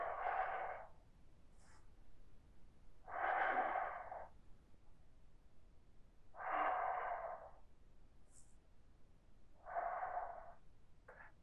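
Deep, slow breathing during a yoga warrior pose, four long rhythmic breaths spaced a few seconds apart, close and clear with quiet pauses between them and no talking.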